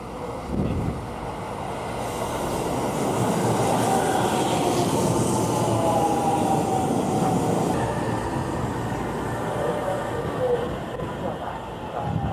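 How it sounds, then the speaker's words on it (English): A Tokaido Shinkansen bullet train rumbles steadily through a station for several seconds, with a high metallic whine and rail noise sustained throughout, fairly close and loud. "there's going to be a train passing by on the other side"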